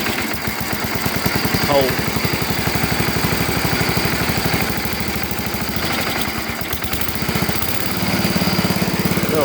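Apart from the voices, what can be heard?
Sears SS12 garden tractor engine running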